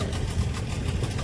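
A speed boat engine idles steadily with a low, even rumble, close by and with no talk over it.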